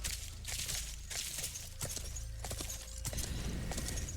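A summoned horse trots through the Sacred 2 game world, its hooves clip-clopping in a steady repeated rhythm amid ambient game sounds, close and moderately loud.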